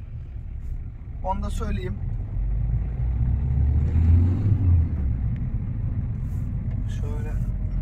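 A Ford Courier Titanium Plus rumbles steadily as it pulls away and drives along a road closed to traffic, with a low engine and road drone throughout and someone talking over it at intervals.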